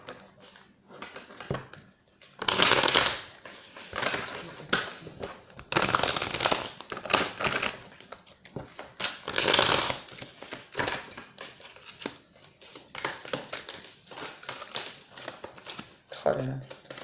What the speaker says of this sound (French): On fait le tirage et on interprète juste après.